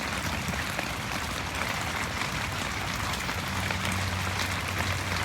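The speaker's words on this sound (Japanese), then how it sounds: "土砂降りだ。" Heavy winter downpour at a campsite, a dense steady roar of rain drumming on surfaces, loud and unbroken throughout with no voices.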